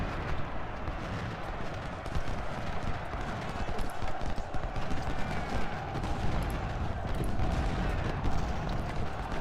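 Musket volleys and battle noise from the Civil War strategy game Ultimate General, a dense continuous crackle of gunfire with rumbling, steady and loud, with someone speaking now and then over it.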